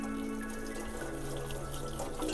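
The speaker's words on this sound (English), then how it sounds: "use low pressure fanned water" Low pressure fanned water rinsing dirty roots in a 200 sieve, a soft steady hiss of spraying water without pause over the short stretch.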